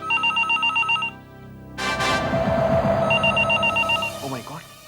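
A telephone rings in repeated bursts, then talk breaks in over a dense noisy passage before the ringing returns faintly near the end.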